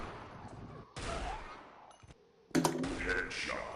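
Gunfire from a headshot in the video game Unreal Tournament, during a capture-the-flag match: a couple of sharp blasts separated by quieter gaps, with a faint voice underneath.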